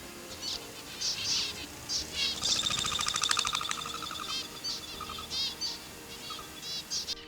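Wild plumhead finches and zebra finches call together outdoors: a busy scatter of short, bright chirps and nasal tweets, with a denser burst of rapid calling in the middle, at moderate distance and with no voices.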